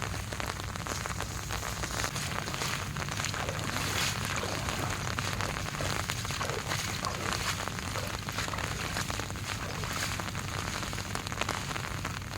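Steady heavy rain pours down during an outdoor fishing trip as darkness falls, a dense continuous hiss of drops pattering on surfaces, close and loud throughout with no talking.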